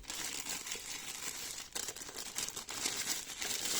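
Plastic packaging crinkles and rustles close up in quick, uneven bursts while Bose Frames Tempo audio sunglasses are unboxed.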